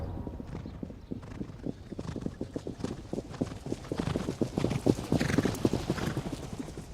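Horse hooves clip-clop steadily on hard ground at a racing stable where horses are trained, a dense rhythmic stream of close, fairly loud hoofbeats over seven seconds with a brief whinny among them.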